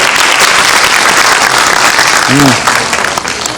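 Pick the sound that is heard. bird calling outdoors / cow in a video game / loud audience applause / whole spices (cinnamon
loud audience applause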